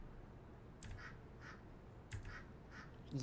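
A duck in the video game A Bewitching Revolution gives two short quacks, about a second apart, faint and close over a quiet game background.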